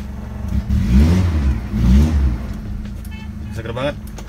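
A car engine revs twice in quick succession, each rise loud and close, then settles back to a lower hum while voices and brief chirpy sounds come in near the end.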